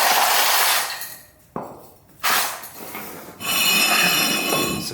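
A Jeep FSJ Cherokee Chief wheel hub is tapped onto new, stronger lug studs: a few sharp metallic knocks with ringing tails, separated by short quiet gaps, close and fairly loud.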